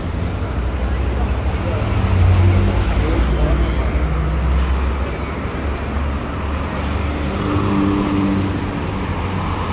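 A city bus pulls up in street traffic on Sunset Boulevard in Los Angeles. A low engine rumble swells and fades over a continuous bed of passing cars and street noise, with a closer surge of engine sound in the middle.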